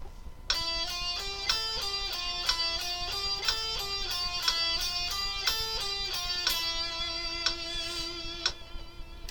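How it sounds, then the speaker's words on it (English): Guitar picking exercise at three notes per beat, played with a metronome: quick, even plucked notes stepping through a pattern over a soft ticking click, fairly quiet and close, with no voices. "Here is the first exercise with the metronome."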